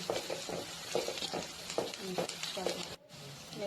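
Green chillies sizzling and frying in a pan for a chicken pepper curry, with repeated stirring scrapes in an uneven rhythm, close and fairly loud.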